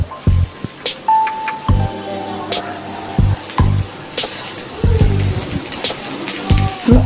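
Chopped pointed gourd tumbles into a pan of hot oil and chopped onion, giving a loud, close sizzling hiss broken by a series of heavy thuds and metallic clanks against the pan, with no voices.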